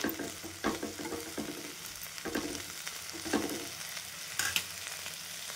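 Red roselle buds (ambadi) frying in hot oil over high heat, a steady soft sizzle broken by periodic scraping stirs of the spatula in the pan.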